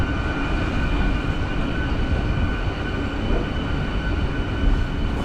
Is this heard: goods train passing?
yes